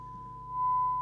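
Steady pure sine tone from the receiver of a President Walker ASC multi-norm CB radio under adjustment, held constant and clear throughout and growing slightly louder partway through, with a faint low hum beneath.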